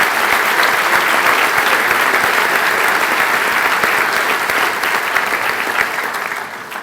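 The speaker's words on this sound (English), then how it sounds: "Let's give these guys a round of applause," Loud, steady applause from a large crowd, dense clapping that continues throughout and tapers slightly at the end.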